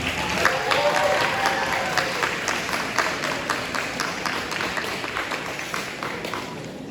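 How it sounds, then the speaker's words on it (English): An audience at a school sports banquet claps in a broad wash of applause, loud at first and gradually tapering, with a few individual claps standing out over the steady crowd. "let's give a huge round of applause"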